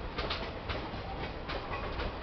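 An Indian Railways WDG4 diesel locomotive, a 4400 horsepower dual-cab WDG4D from the Kalyan or Pune shed, rumbles past with steady rail clatter and periodic wheel clicks, moderately distant and without talk.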